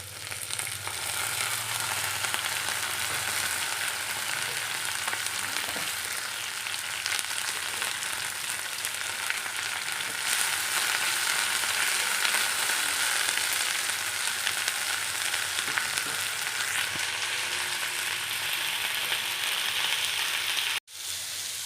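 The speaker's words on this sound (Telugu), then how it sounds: "ఇప్పుడు మెంతి కూర యాడ్ చేస్తున్నాం" Fenugreek leaves frying in a small amount of oil, a steady, close, bright sizzle that runs continuously with occasional stirring scrapes and a brief cutoff near the end.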